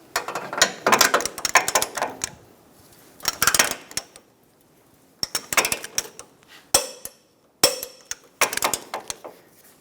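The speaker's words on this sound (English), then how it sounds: "Torque the front bolt to 85 foot-pounds" A torque wrench tightens the front lower control arm bolt on a 2012-2020 Chevrolet Sonic, with bursts of close metallic clicks and ratcheting clatter separated by quiet gaps.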